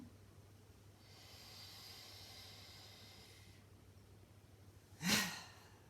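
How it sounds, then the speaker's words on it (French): Deep breathing during a guided stretching session, with one long, soft airy inhale lasting a couple of seconds, a pause, then a short, forceful snort-like exhale close to the mic in a quiet room. "Grande respiration."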